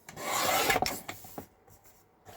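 Paper edges for a handmade floral journal being trimmed, a soft rasping slide followed by a few short scraping strokes that fade out, close and quiet with no talk.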